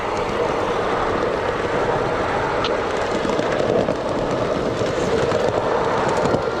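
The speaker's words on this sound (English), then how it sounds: "G-gauge train layout down here" A G-gauge model train runs continuously on an outdoor layout with a steady rumbling clatter of wheels on track, fairly close, with no talking.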